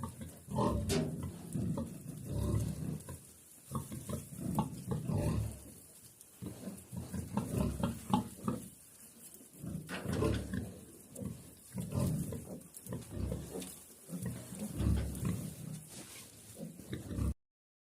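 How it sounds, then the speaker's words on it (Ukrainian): Piglets grunt and squeal in steady, overlapping bursts close by under a heat lamp, a busy chorus of small snorts continuing throughout with no talking. "Поросята самі заходять під лампу."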